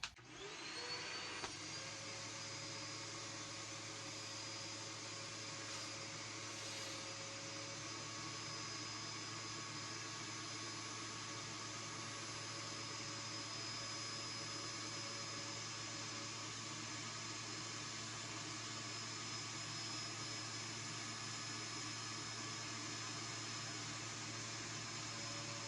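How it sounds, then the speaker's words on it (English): A vacuum cleaner starts up and runs continuously to suck the air out of a storage bag, a steady loud drone with a high whine, with no talking. "And you turn your vacuum on."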